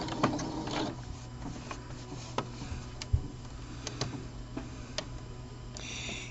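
Sewing machine making a few slow lock stitches while topstitching a serger seam, sparse quiet ticks and clicks with a low hum, close but faint.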